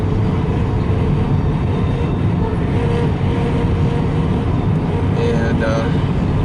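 A train rumbles along steadily while crossing Caldwell Road near a Norfolk Southern line, a continuous broadband roar with a brief higher squeal near the end.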